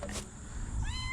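A short, high meow from a kitten, close and clear, over a low rumbling background, at a Branson 3015R tractor.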